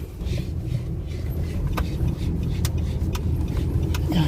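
Nissan Calibre car on a test drive, its engine humming in a steady low rumble from inside the cabin throughout, with faint brief clicks over the drone.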